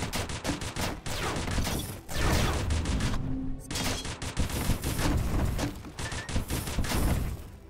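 Rapid bursts of video-game gunfire from a gun in the 2D action game Dungreed, loud and near, firing in dense rhythmic volleys that pause briefly and resume through the clip.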